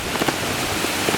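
Rain falling at the seaside as the wind picks up, a steady broadband hiss with soft scattered patters, fairly close and continuous, with no voices.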